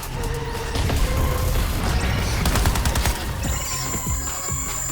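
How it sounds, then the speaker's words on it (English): Rapid bursts of a cannon's sci-fi energy weapon fire crackle in Suicide Squad: Kill the Justice League, over a dense, loud mechanical din, with a sustained high whine entering near the end. "The cannon is firing its energy weapon."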